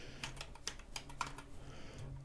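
Computer keyboard keys clicking in a short burst of typing, several close, crisp taps at an irregular rhythm over a low steady hum.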